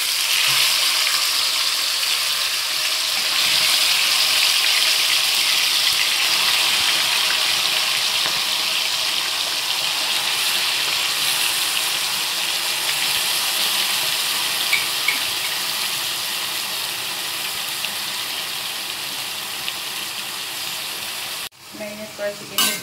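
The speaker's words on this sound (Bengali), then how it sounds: "এবার এর মধ্যে আমরা ম্যারিনেট করা চিকেনটা দিয়ে দেব।" Marinated chicken hits a hot pan of oil tempered with fenugreek, giving a loud, steady broadband sizzle that holds for about twenty seconds before a brief stir near the end.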